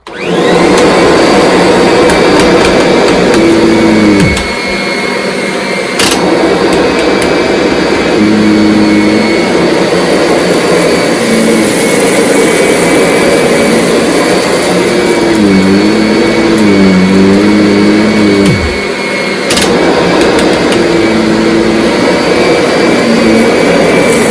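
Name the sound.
Kirby Sentria G10 vacuum cleaner picking up salt and rice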